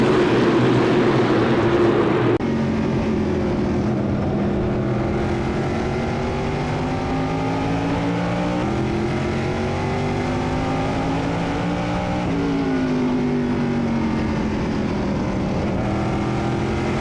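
Modified stock cars racing on a track during a prize-money event, several engines roaring together with rising and falling pitch as they pass and shift, loud and continuous with no talking.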